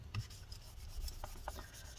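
A paper towel soaked in rubbing alcohol rubs back and forth across the surface of a late 2016 13-inch MacBook Pro A1706, giving soft, scratchy wiping strokes at close range.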